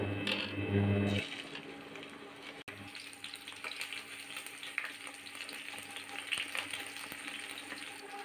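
Onion hits hot soybean oil with a brief clatter, then sizzles steadily and close, with small clinks of stirring and no talking.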